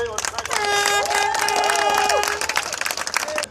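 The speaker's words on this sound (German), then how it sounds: "Das ist dein Applaus." Crowd applause and cheering for a racer at a European championship solo finale in Bielefeld, a steady dense wash lasting a few seconds beneath a loud announcer's voice and a rising whistle-like tone, then thinning out.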